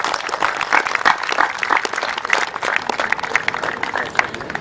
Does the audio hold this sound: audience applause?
yes